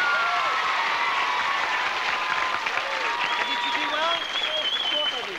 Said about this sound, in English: I want you to all give a big special round of applause to our Vinny